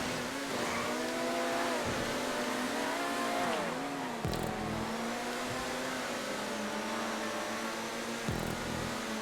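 A racing car engine in GTA 5 holds steady at full throttle, a continuous loud whine with harmonics that dip briefly when lifting off for corners and then climb straight back up.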